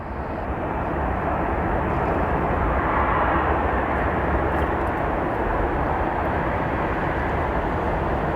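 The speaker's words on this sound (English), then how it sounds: "Runway 34 left, clear for takeoff" Royal Brunei Airlines Boeing airliner on its takeoff roll from runway 34 left at Narita, a steady, loud broadband jet engine roar sustained throughout.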